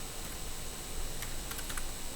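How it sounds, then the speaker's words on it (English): Quick, light tapping on a computer keyboard as a sudo command is entered, a short run of soft clicking keystrokes that are close and quiet, with no voices. "So here I will type sudo,"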